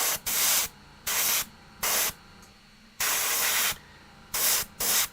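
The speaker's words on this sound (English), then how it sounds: "I like the part where you're airbrushing." An airbrush spraying paint onto Warhammer 40k Dark Eldar Hellion models, short bursts of sharp hissing spray broken by brief pauses, close and loud with no talk.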